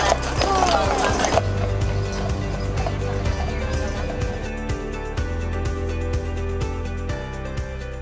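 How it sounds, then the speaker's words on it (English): Horse-drawn carriage hooves clip-clop in Stanley Park, Vancouver, a steady rhythm of hoof strikes mixed under music and outdoor ambience. "Stanley Park also runs charming horse-drawn carriages."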